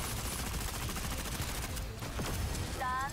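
Gunfire in a shooter video game rattles as a dense, continuous burst of rapid shots aimed at the player, moderately loud and unbroken throughout, with a brief electronic chirp near the end.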